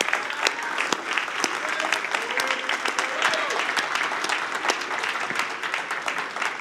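Loud, sustained applause and cheering from a church congregation welcoming a guest speaker, dense clapping filling the room throughout with a few scattered voices in the crowd.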